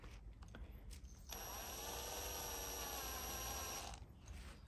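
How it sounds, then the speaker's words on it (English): A power drill drives a screw into soft tufa rock, one continuous whirring run of about two and a half seconds, close and fairly quiet, with faint handling noise before and after. "So I'm going to drill it in there, and I hope the screw should stay."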